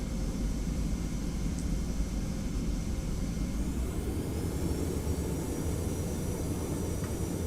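A Delta 717 airliner taxis toward runway 26 left in the Prepar3d flight simulator. Its engines give a steady, loud rumble and whine throughout, with a rising tone partway through and no voices.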